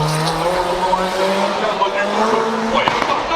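V8 race cars at a motorsport event in Brittany, their engines revving and droning at close range, with tire squeal and a voice in the background.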